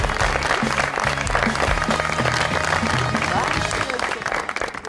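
Audience applause greeting a guest on a talk show, dense steady clapping from a crowd with music underneath and a voice talking over it.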